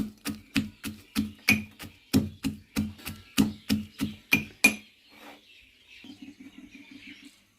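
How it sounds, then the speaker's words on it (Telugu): Garlic coarsely pounded for a carrot pickle, about fourteen sharp, evenly spaced thuds at close range, then a quieter run of quick, lighter taps. "ఈ వెల్లుల్ని ఇలా కచ్చబిచ్చిగా తొక్కుతున్నాను"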